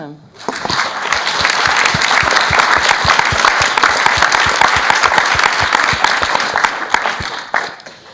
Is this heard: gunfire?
no